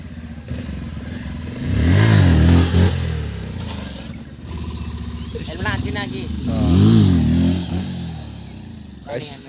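A motorcycle engine revs hard in two loud bursts, rising and falling, during a wheelie stunt on a road. Voices talk between and over the revs.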